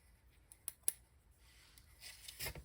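Scissors trim tinsel strands on microlocs with a few quiet, crisp snips close by, followed by soft rustling. No talking.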